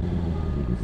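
A truck rumbles close by with a heavy low engine drone, steady and loud through the short moment, with no distinct beeps standing out.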